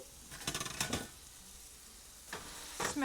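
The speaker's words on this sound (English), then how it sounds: "The sizzle is strong." Burger patties sizzle steadily in a dedicated burger pan, with a few scraping and clattering touches of a utensil against the metal, heard close and with no talking.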